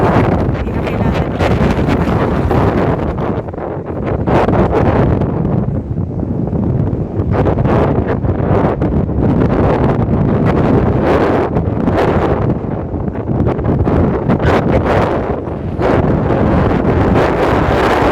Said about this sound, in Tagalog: yan ang napakalakas na hangin